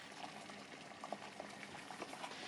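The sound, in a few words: water boiling in a pot for green beans and gnocchi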